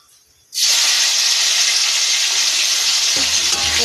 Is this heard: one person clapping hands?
no